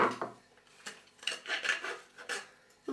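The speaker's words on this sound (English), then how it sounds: "it's just a case of filing" Hand file rasping against metal while shaping the heel of a saucepan-made model, close and dry, in irregular bursts of strokes with short pauses between.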